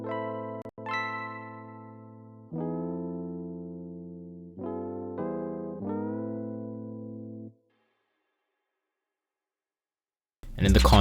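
Soft electric-piano chords from Ableton's Whirly Soft Piano preset with reverb, EQ and widened stereo, each chord swooping up in pitch at its onset, several sustained chords played close and clear, then silence before a brief burst of noise.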